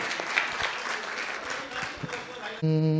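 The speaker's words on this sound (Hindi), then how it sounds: "आप सभी के लिए एक बार आप खुद ताली बजा दें" An audience at a music lesson claps in a brief, dense burst of applause lasting a few seconds, cut off abruptly as a sustained musical drone tone begins.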